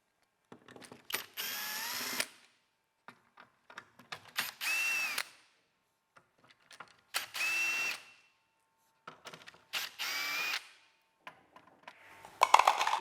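A power screwdriver with a Torx 20 bit unscrews screws on a Martin Mac Ultra effect module in four separate whirring bursts, close, with light clicks and handling noises in the quiet gaps between them.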